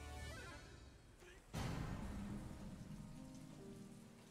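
Steady rain pattering on a surface, with a sudden louder burst of downpour partway through that continues as a dense, even hiss.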